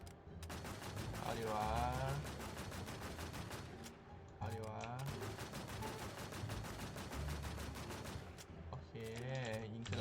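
Rapid automatic gunfire from the online game Warz Infestation Fantasy as a player shoots ghosts, sustained bursts with brief pauses, loud and dense, with someone talking over the shooting.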